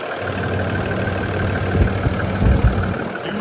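A 6.7 liter Cummins ISB inline-six diesel idles in a 2021 International MV607 box truck, a steady low rumble with a broad even drone and faint irregular knocks, close and continuous with no talk.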